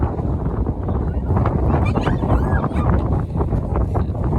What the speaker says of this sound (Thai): โอ้โหลมพัดแรงมาก